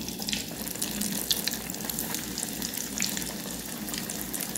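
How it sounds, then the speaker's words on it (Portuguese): Bean fritters fry in hot fat in a country kitchen, giving a continuous dense crackle and sizzle at moderate, even loudness with no pauses. "A gente vai colocar o bolinho aqui agora para fritar."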